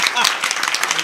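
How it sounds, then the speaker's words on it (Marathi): Audience applause at a music show finale, a dense, steady wash of many hands clapping close and loud, running continuously with no pauses. "जोरदार टाळ्या"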